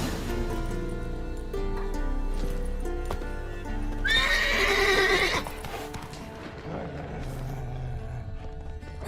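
Scorpion, a horse in The Witcher 3 video game, clip-clops along with steady hooves and lets out a loud, close whinny partway through, over faint ambient game music.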